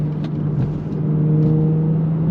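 An Audi A7 Sportback (4G8) with a twin-clutch gearbox accelerates, its engine note a steady close-up drone with a strong low hum and rising whir, heard from inside with no talk.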